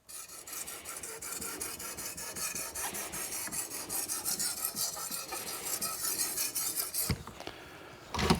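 A knife scrapes back and forth across a wet whetstone with slurry building up, a close, steady gritty rasp of repeated strokes, ending in a couple of sharper scrapes and a brief clatter.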